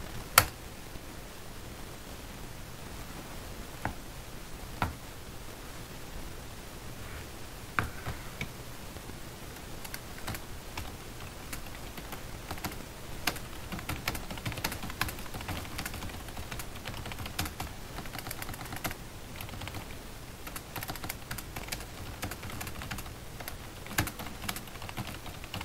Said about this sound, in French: le clavier PS Slash 2 de chez Genius. Rien à dire, il fonctionne correctement, donc voici un type test.